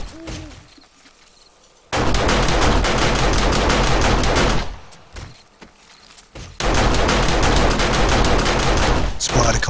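Automated turret guns fire rapid sustained bursts during a horde night in 7 Days to Die, two long loud volleys of machine-gun fire separated by a quieter pause with scattered shots.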